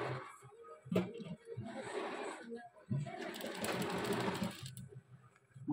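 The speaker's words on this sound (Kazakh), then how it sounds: "Осылай соңына шейін оверлоктың үстінен тігіп етегін аяқтаймыз." A sewing machine stitches a dress hem over an overlocked seam in bursts of fast mechanical whirring, and someone talks over and between the runs.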